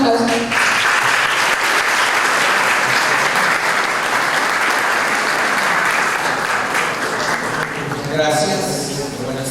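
Sustained audience applause fills a university lecture hall at a law event, a dense wash of clapping that carries steadily for several seconds before thinning out near the end.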